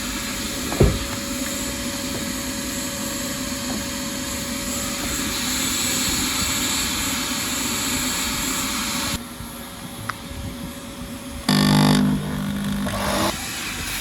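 A car seat cleaning machine nicknamed George runs with a continuous loud motor whine and roar that holds steady. It then drops abruptly, and a louder burst of mechanical noise follows near the end.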